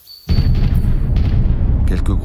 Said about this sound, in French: Quelques gros obus tombent à ce moment-là.